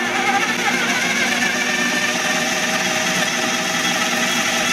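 A food processor runs on low, mixing maple syrup and nut butter for no-bake vegan chocolate balls, giving a steady, even motor whir that holds at constant loudness throughout with no talk.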